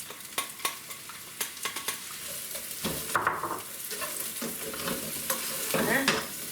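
Onion fries in a pan on a camping stove inside a Romahome camper, with sharp scraping stirs and clicks early on, then a rising, steady sizzle that grows louder toward the end, no speech.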